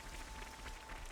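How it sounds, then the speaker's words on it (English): Steady rain falls in the video game Xenoblade Chronicles 3, a soft, even wash of patter and hiss with no breaks and no voices over it. "Oh, luckily it's still raining."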